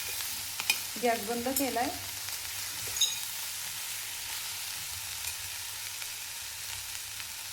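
Corn roasting in a pan gives a faint, steady sizzle with brief stirring scrapes, and someone speaks briefly over it.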